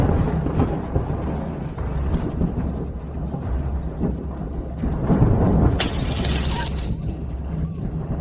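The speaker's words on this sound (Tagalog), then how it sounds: "Kulog lang yan. At nabasag na florera." A vase crashes and shatters on the floor during a thunderstorm, a sharp breaking burst standing out against a steady low rumble of thunder and rain.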